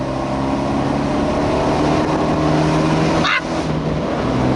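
Abarth 124 Spider with its 1400 MultiAir engine breathing through a custom-developed exhaust, a steady loud drone throughout with a brief whooshing sweep near the end.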